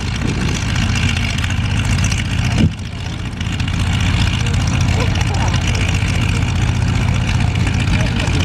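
A Continental 220 radial airplane engine at an airshow runs with a steady low rumble. A brief dip marks the start as it catches, then it settles into a loud, even drone close by.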